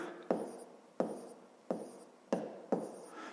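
Writing out a math solution by hand, five separate pen or chalk strokes, each a sharp onset that fades, spaced under a second apart, close and clear with no talking.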